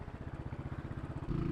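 Royal Enfield Classic 500 motorcycle engine while riding through a city, a steady low thumping single-cylinder pulse with buzzy vibration, close and continuous, the note rising slightly near the end, no talking.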